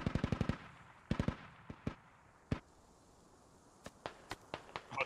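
Video game gunfire crackles in a wartime campaign mission: rapid automatic bursts, then scattered single shots and short volleys, sharp and fairly close with no talk.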